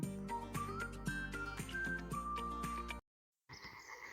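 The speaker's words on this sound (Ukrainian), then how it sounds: "Чуєте? Жаби кричать." Several frogs croak and trill in a rhythmic outdoor chorus, with repeated pulsing calls layered together, briefly cut to silence before resuming.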